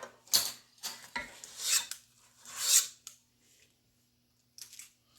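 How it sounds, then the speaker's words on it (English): A cookie scooper scrapes cookie dough against the side of a mixing bowl in several short, raspy strokes, close and clear with small gaps between them. "He just picks up a handful, scrapes it on the side of the bowl"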